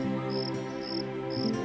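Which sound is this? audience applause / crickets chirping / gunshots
crickets chirping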